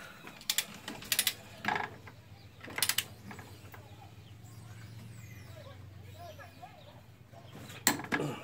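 A torque wrench ratchets a bolt on a Toyota 8.4 differential to 70 foot-pounds while a Power Trax No Slip locker is installed, heard as short clicking bursts near the start and end, with some background hum between.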